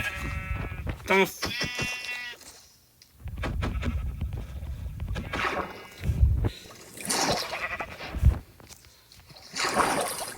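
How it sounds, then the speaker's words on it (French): Sheep bleating in the Minecraft survival game, a few short, nasal bleats early on amid game sounds and splashy noises, with a French-speaking player talking over much of it. "Le mouton."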